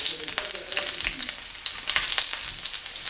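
Dry chilies spit and sizzle in hot oil in a pan, a loud, steady frying hiss with crackling pops, close up and with no voices.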